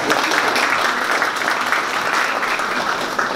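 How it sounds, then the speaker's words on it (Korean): Loud, dense applause from a seated audience welcoming a presenter at a forum, with sustained, even clapping close by and no speech. "큰 박수로 환영해 주시면 감사하겠습니다"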